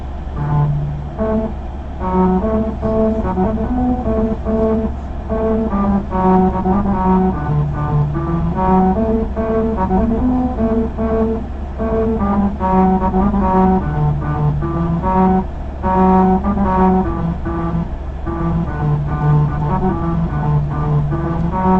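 A car drives over a musical road, its grooved surface producing a loud, continuous tonal melody that rises and falls over a low steady engine and tyre rumble for over twenty seconds.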